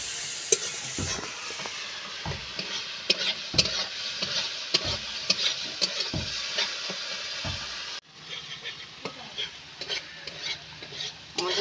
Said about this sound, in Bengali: ঢাকনা তুলে নিয়ে মশলাটা আমি ভালো করে কষিয়ে নেব